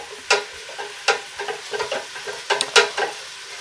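Spoon stirring salted herbs into hot water in a pot to make broth for a sweet potato and green lentil soup, with repeated scraping and clinking strokes close up, irregular and fairly loud, no talking.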